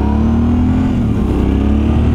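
Yamaha Tenere 700 (XTZ690 T7) motorcycle on a test ride, its engine droning steadily and loud from the rider's position with a constant low hum and rushing wind noise throughout.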